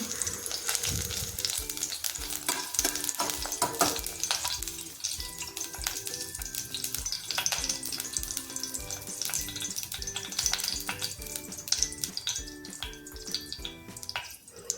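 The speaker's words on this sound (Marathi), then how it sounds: "हिरवी मिरची तेलामध्ये चांगल्या प्रकारे परतू द्यायची आहे" Green chillies sautéing in hot oil for masala Maggi noodles, a continuous crackling sizzle with occasional stirring knocks, up close and without voices.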